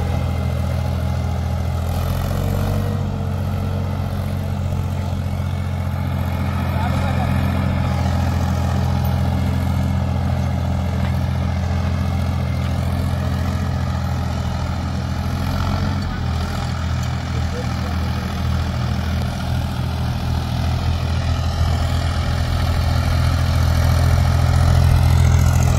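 A Mahindra M-Tech tractor engine runs steadily on a farm, with a loud, low, continuous drone and a slight rise in intensity toward the end.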